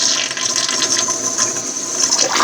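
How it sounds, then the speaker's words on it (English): Full flush of a toilet fitted with a Danco dual flush conversion kit: loud, close rushing and gurgling water that continues steadily throughout. "Let's do a flush. Do a full flush."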